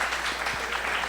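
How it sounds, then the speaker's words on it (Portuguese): Applause from a crowd, a dense steady patter of many hands clapping, heard briefly. "eu queria uma salva de palmas para aquele rapaz lá"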